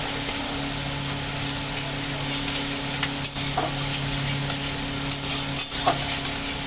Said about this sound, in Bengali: সেটা তেলের মধ্যে দিয়ে দেবো দিয়ে ভালো করে নাড়িয়ে নেব